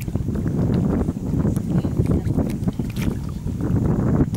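Oars splash and churn through water in a steady rhythm as a rowboat is rowed in wind, with wind buffeting the microphone and water sloshing close by.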